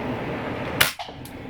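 A single sharp crack from an Umarex RP-5 air rifle fired at a target 15 yards away, loud and close, with a brief fading tail and a faint second tick just after.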